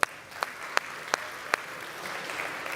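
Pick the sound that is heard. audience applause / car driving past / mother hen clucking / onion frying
audience applause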